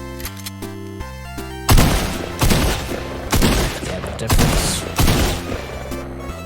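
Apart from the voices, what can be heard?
shotgun firing in a video game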